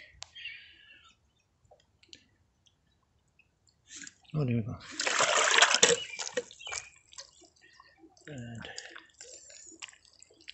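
A homemade drip irrigation float, reused from earlier jobs, trips and releases water in a sudden rushing, splashing burst lasting about two seconds. A quieter trickle follows. A person speaks briefly before and after.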